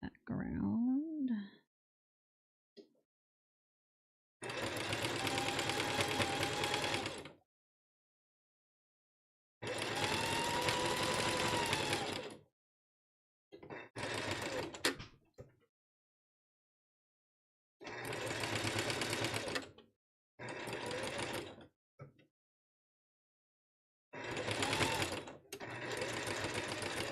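A sewing machine runs zigzag stitches while sewing rope bowls, buzzing in several bursts of a few seconds each, separated by silent pauses, close and steady.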